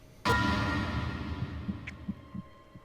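Heartbeat sound effect from the video game 999, a sharp initial thump followed by a low, soft, fading throb of pulses beneath a faint hum.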